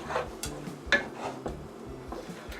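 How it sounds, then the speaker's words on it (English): Spoon scraping and clinking around a pot while stirring Reese's Rice Krispies treat mixture, soft irregular knocks and rubs close by, quiet and unhurried. "Stir, Mama, stir. I'm stirring."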